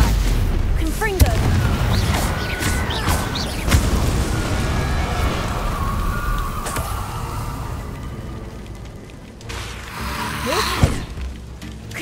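In Hogwarts Legacy, a Confringo fire spell blasts amid a loud fight, with booming impacts, whooshes and crackling bursts over a rumbling low layer, then a quieter stretch and a final bright burst. Someone talks over the action.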